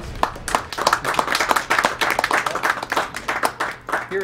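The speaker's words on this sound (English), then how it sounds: "I guess there's a round of applause." A crowd at Awesome Games Done Quick 2013 applauds steadily, dense clapping from many hands at moderate loudness throughout, with faint voices mixed in.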